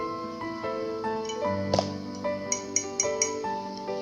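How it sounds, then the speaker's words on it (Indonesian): A spoon tapped against a drinking glass gives a series of bright, ringing clinks, roughly eight strikes spaced unevenly over a few seconds, each with a sustained tonal ring, heard close and alone. "Gelas ini benda padat. Sendok juga benda padat kan? Terdengar bunyinya, ya kan?"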